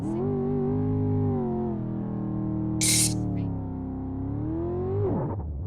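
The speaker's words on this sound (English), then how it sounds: "Oh, that car sounds beautiful." Race car engine in a racing video game, a loud sustained revving drone with rising and falling harmonic pitch through gear changes and a brief higher burst midway, steady and close, no talking.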